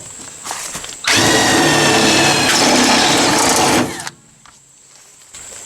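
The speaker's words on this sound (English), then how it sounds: "we'll need to drill through this bracket with a 5/16 bit" A power drill with a 5/16 bit bores through a metal Jeep Wrangler fender bracket, a loud, steady whine lasting about three seconds that starts and stops abruptly amid workshop background.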